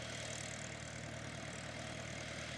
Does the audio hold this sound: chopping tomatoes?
no